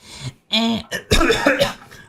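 A character in the horror video game Silent Hill f coughs several times, with harsh, raspy, close bursts and throat clearing separated by short pauses.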